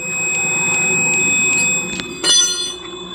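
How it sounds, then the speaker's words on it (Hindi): A multimeter in continuity mode sounds a series of short, evenly spaced high beeps as its probe touches a wire, then a louder sustained tone over a steady background hum. "जैसे मैंने इसे टच किया बीप का साउंड सुनाई दे रहा होगा"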